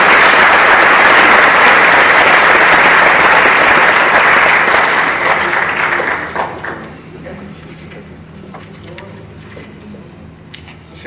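A large audience at a Chamber of Commerce event gives its president a strong round of applause; dense, loud clapping fills the first six seconds, then thins and fades to a few scattered claps.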